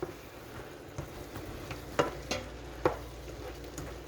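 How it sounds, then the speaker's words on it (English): Mushrooms coated in a spicy seafood seasoning blend are stirred into sautéed vegetables in a pan. A soft, steady sizzle runs under several sharper scrapes and knocks of the spoon against the pan. "Now I'm going to stir these mushrooms in that have Cooking with Greens family spicy seafood blend on them"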